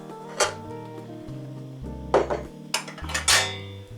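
Stock and cream of mushroom soup being stirred together in a casserole dish: a few bright clinks of a utensil against the dish, scraping and knocking at close range, with no talking.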